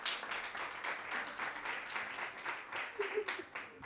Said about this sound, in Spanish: Un breve aplauso, un breve aplauso.